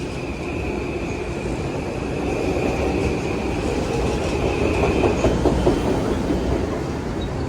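A 10-car commuter train bound for New Haven passes through Stamford station with a loud, steady rolling rumble and wheel clatter that builds slightly toward the end. A faint high tone runs through most of the pass, and no one speaks.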